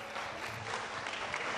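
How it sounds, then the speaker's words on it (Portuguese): Studio audience clapping for a band member being introduced on a Portuguese live TV show, a soft, steady patter of applause heard at moderate distance, fairly faint and without voices. "Vamos dar umas palmas"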